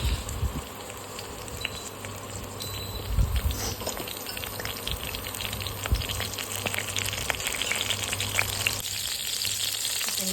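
Cumin seeds and curry leaves sizzle and crackle steadily in hot oil for hotel-style sambar, a dense, continuous frying hiss with small pops throughout, heard up close without talk.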